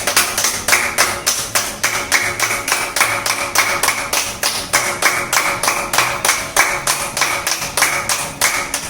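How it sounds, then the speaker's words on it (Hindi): Loud, steady hand clapping done as a yoga exercise, a fast regular rhythm of sharp claps repeating close up with no talk over it. "चलो, जोर से ताली।"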